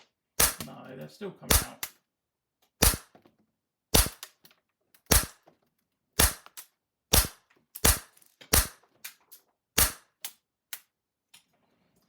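An airsoft gun fires BBs into a homemade target box, sharp cracking shots repeating at irregular intervals, each with a quick snap of impact, loud and close. Someone talks briefly at the start.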